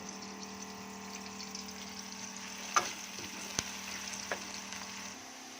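Onions fry until brown for chicken white karahi, a quiet steady sizzle with a low hum beneath it and a few soft knocks of a utensil, close and faint with no speech.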